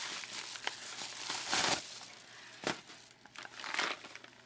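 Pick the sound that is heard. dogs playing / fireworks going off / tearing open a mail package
tearing open a mail package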